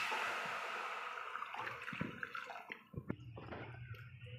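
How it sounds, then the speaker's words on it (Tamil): Water poured into a pan while cooking semiya, a splashing, dripping pour heard close up with gurgling bursts near the end, no talk. "இப்போ நம்ம தண்ணி ஆட் பண்ணிக்கலாம்"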